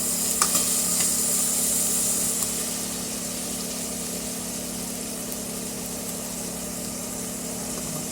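Garlic and onion sautéing in a pan for monggo soup, a steady close sizzle with faint stirring scrapes, loudest in the first couple of seconds and then settling into a softer continuous fry with a low hum underneath.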